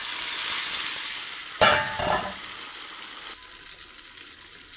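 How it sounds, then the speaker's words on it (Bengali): Tomatoes go into a hot pan with fried egg, onion and garlic, giving a steady close-up sizzle with a brief burst of louder crackling and stirring near the start. A softer, even hiss continues afterward. "এখন আমি টমেটো দিয়ে দিলাম।"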